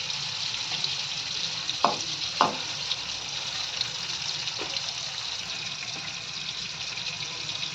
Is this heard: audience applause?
no